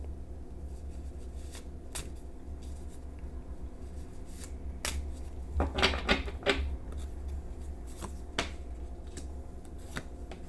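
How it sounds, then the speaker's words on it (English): Tarot cards shuffled by hand in a few soft, papery riffles and taps, close and quiet against a low steady background hum, with no voices. "Two more shuffles."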